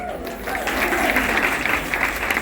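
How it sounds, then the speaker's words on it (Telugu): Guests at a first birthday party clap together in a dense, steady burst of applause from a nearby crowd, with voices mixed in. "గట్టిగా చప్పట్లు కొట్టమను"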